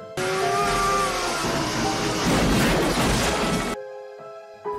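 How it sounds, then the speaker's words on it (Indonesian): A doll's head bursts apart when a compressor hose is forced into its mouth in a horror film, a loud, sustained blast with crackling debris that cuts off abruptly, followed by a lingering tonal hum. "dia pun memasukkan selang kompresor ke mulutnya Chucky, sampai membuat kepala Chucky meledak"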